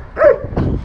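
A dog gives two quick, loud barks close by, the first sharper and the second rougher, with no one talking.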